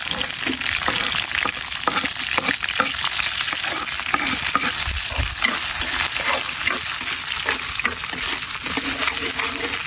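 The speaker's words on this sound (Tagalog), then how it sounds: "magisa na tayo mga pare ko. Maglalagay na tayo ng bawang. Maraming bawang." Garlic and onion sizzle loudly in hot oil in a frying pan, a dense continuous crackle with stirring scrapes and clatter throughout, close and steady.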